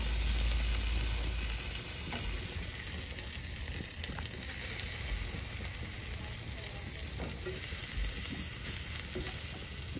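Onion fries in a pan with a dense, continuous sizzle that stays loud and close throughout, no voices over it.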